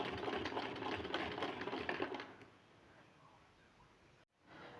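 An old sewing machine stitches fabric in a fast, steady mechanical rattle for about two seconds, then stops, leaving quiet room noise.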